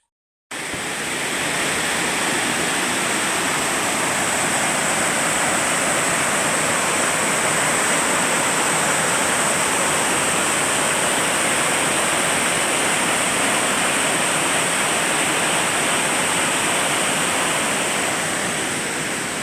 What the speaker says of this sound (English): Yeah, this is Thundering Falls